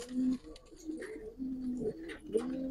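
Pigeons, black-necked Giribaz show birds, give soft repeated coos in short phrases, quiet and close, with faint shuffling between calls and no talk.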